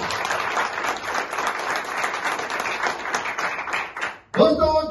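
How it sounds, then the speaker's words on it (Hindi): Dense, steady applause from a seminar audience honoring a company ambassador, filling about four seconds before breaking off abruptly, followed by a louder voice speaking close by. "एक बार जोरदार तालियां उनके लिए होनी चाहिए।"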